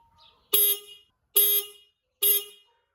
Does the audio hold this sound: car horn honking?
yes